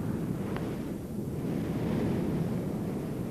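Sea waves break against coastal cliffs, a continuous broad roar of surf with a faint swell in intensity, mixed with wind buffeting, with no voices.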